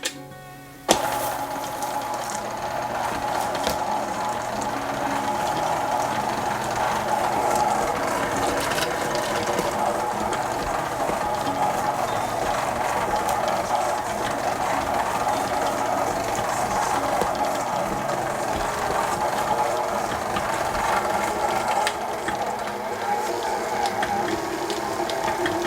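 Monster cookie dough with M&M's and semi-sweet morsels is churned in a mixer, a steady whirring motor drone with a grinding mechanical rattle running continuously and close throughout.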